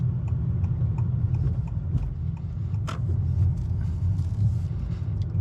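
A 2023 Honda Accord Sport Hybrid rolls over rough pavement, a steady low road rumble and tyre drone inside the cabin with faint ticks and one sharp knock from the broken surface.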